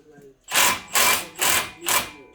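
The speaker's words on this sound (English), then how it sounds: "let me hit it with the, hit him with the impact" An impact wrench hammers in four short, loud bursts with brief gaps between them, close up, on a front brake caliper bolt of a 2008–2014 Dodge Avenger 2.4 L.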